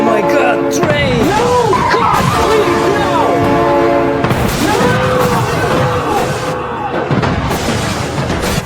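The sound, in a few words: train and train horn in BeamNG.drive video game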